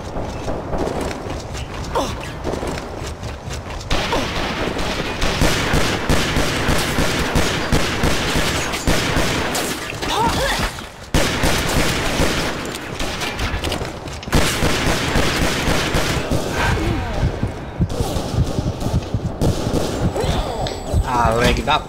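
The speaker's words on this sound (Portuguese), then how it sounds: "Tô aqui trocando tiro aqui." Rapid bursts of gunfire and booming impacts from a pistol-round shooter game, dense and loud, with brief pauses between volleys.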